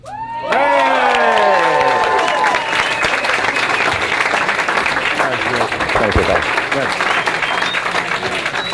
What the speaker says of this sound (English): let's give Bob and Linda a round of applause.